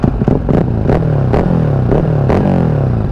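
Ducati Hypermotard exhaust revving up close, a loud deep throbbing rumble with repeated blips that rise and fall in pitch, raspy and slightly cracked in tone, with no talk over it.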